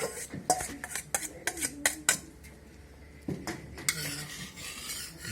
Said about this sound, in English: Scrub the inner part of the container.